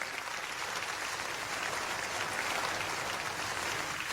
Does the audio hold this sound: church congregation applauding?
yes